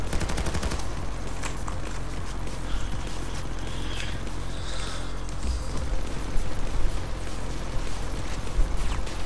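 Sustained automatic gunfire aimed at a turret in Payday 2 rattles on in dense, loud bursts for the whole stretch, mixed with game mechanisms and scattered impacts.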